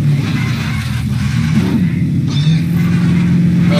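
A car engine on a dinosaur park ride in a video game hums steadily at close range, with a low, continuous mid-pitched drone and a slight rise in revs partway through.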